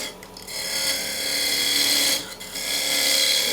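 A wood lathe parts down a spinning maple burl, giving a continuous rasping, scraping cut that briefly dips twice before resuming, close and fairly loud with no voices.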